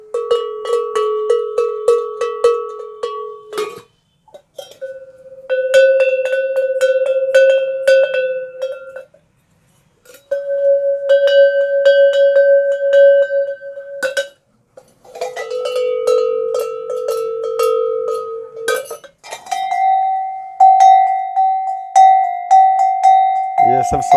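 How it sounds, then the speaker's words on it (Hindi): Old cowbells once used on tethered cows, about 100 years old, struck one at a time, five or six separate clanging rings of differing pitch, each sustained for a few seconds, near and loud. "इसके बाद ये गायों के बांधने के पुराने घंटे, गोधूली वेला के वक्त इनकी आवाज़ देखिए।"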